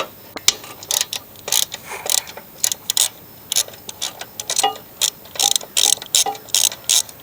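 A socket ratchet loosens the oil drain plug on a Craftsman lawn mower, giving quick bursts of close metallic clicking in an uneven rhythm over about seven seconds, with no talking.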